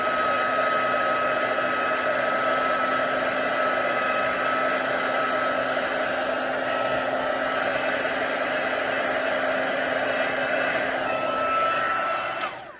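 Heat gun blowing steadily on a card to melt embossing powder, a loud, even whooshing roar with a constant whine that holds unbroken for about twelve seconds before cutting off at the end.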